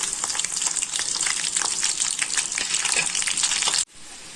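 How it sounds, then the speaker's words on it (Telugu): Garlic hits hot oil in a pan with a dense, crackling sizzle that holds steady and close, then drops sharply to a quieter hiss near the end. "వెల్లుల్లిపాయ వేసుకుంటున్నాను"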